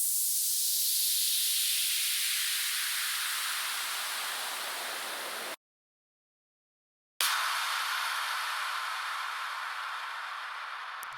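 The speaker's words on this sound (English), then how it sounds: "You need a bunch of have a bunch of exhausts, white noise." Broadband white noise sweeping downward in tone, cut off by about a second and a half of silence, then returning as a steady hiss that slowly fades.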